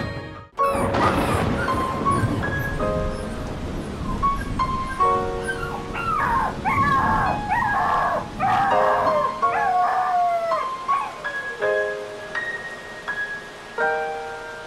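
A borzoi in Roblox Brookhaven yips, whimpers and howls in drawn-out wavering cries, close and loud over a steady game backdrop with chiming tones, continuing for many seconds.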